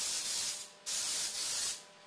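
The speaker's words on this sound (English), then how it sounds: "So use cake goop or nonstick spray. I always spray over the sink" Two hissing bursts of nonstick cooking spray onto a cake mold over a sink, each lasting under a second, close up and fairly loud.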